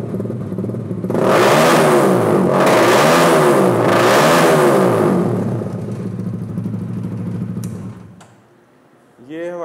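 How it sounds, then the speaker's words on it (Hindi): A modified 200cc cafe racer motorcycle revs its throttle repeatedly in three loud, close bursts, each rising then falling, before dropping to a lower idle and then picking up again at the end. "थ्रॉटल रिस्पांस चेक करें इसका हल्का सा।"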